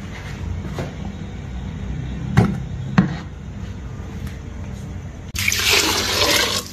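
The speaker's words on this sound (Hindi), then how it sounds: "पानी मिक्स कर लेंगे" Water poured into a pot of lentils with turmeric, salt and oil: two light knocks, then a sudden loud rushing pour that fills the last second and a half, with no voices.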